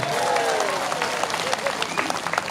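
A crowd applauds, a dense wash of clapping that fades slightly, with a voice speaking over it.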